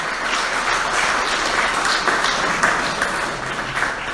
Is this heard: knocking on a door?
no